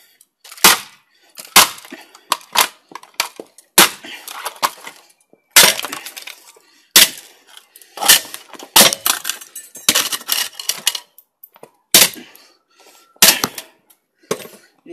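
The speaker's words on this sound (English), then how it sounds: "I'm going to smash the shit out of it because it's that shit" An Android TV box is smashed apart, with a run of loud, sharp cracking impacts of splintering plastic casing, spaced irregularly over about fifteen seconds with brief quiet gaps between blows.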